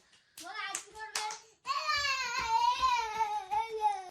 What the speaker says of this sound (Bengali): এই তো হাততালি আবার হাততালি